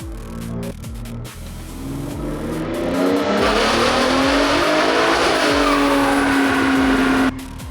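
A turbocharged Gen 3 Ford F-150 Raptor running hard on a dyno, its loud engine climbing in a long sustained rev that holds near the top before cutting off abruptly.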